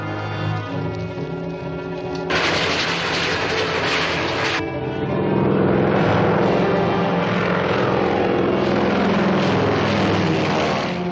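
A propeller airplane drones steadily in flight with a dense, rough engine roar. The roar surges louder partway through and then holds at a strong, constant level with no voices.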